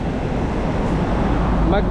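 Steady, loud wind rushing and buffeting the microphone throughout, a broad roar with no pauses.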